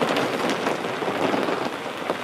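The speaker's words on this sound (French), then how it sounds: "écouter avec plaisir la musique de la pluie sur la bâche" Steady rain drums on a tarpaulin, a dense, continuous patter of drops with no pauses, close and fairly loud throughout.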